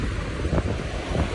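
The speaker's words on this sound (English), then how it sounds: "It's so windy." Gusty wind buffets the microphone outdoors in Copenhagen, a continuous low rumbling roar that swells and dips in uneven bursts.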